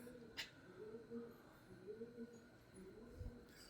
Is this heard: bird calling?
yes